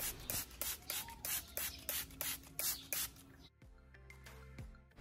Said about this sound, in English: spray hydrogen peroxide on the roots